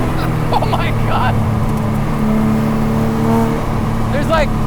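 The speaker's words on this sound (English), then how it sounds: "There's like wind noise, tire noise, engine noise." Loud, steady engine drone from a V6-powered Exocet at speed, mixed with wind buffeting and tire roar heard from the open cockpit, while someone talks excitedly over it in short bursts.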